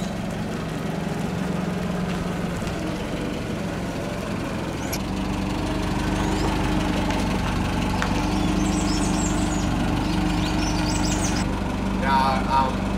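A forklift engine runs at a steady idle-like drone during boat repair work on a Leopard 45 catamaran, a continuous mid-low hum with people talking over it.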